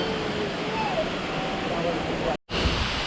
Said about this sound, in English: is like the strongest and windiest waterfall